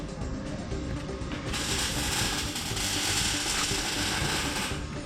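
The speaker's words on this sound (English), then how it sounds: "And you twist this to unscrew it." A ratcheting tool twisting loose a threaded fitting in the fuel system of an all-wheel-drive hatchback, heard as a continuous close, loud mechanical clicking and grinding that swells after the first second and holds steady without voices.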